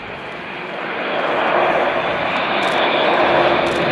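An Airbus A400M military transport aircraft at an air show passes slowly overhead, its steady engine roar building and holding loud and broadband for the whole stretch with no voices over it.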